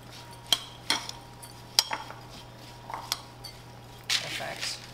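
Ingredients being mixed with melted butter in a bowl, a spoon clinking and scraping against the sides in sharp, irregular knocks over a quiet background, with no one talking.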